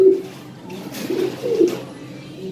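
Soft, low cooing from a bird close by, repeated a few times, with faint rustling in between.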